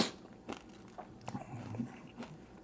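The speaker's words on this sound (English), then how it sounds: "Oh, how loud that crunch is." Food is bitten and chewed up close, a series of irregular crisp crunches spread across a few seconds in a quiet room.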